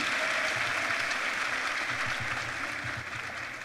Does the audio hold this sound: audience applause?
yes